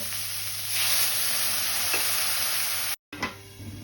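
Potato and cauliflower frying in a pan sizzle loudly and steadily, swelling as water is poured in, then break off for a moment before a short hiss returns.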